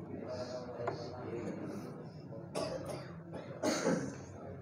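Coughing in a quiet room during a religious study lesson, a few short harsh bursts with a louder pair near the end, over low background murmur and room noise.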